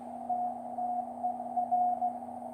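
Morse code received on a QRP Labs QCX kit radio tuned to 7045.5: a steady, faint tone with keyed dots and dashes pulsing over a constant hum, close and alone without talk.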